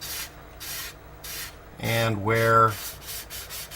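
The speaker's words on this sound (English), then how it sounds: "So I'm going to continue sanding down these various spots" Rhythmic back-and-forth sanding strokes on a model ship hull, close and fairly quiet, with a brief spoken phrase midway breaking the pattern.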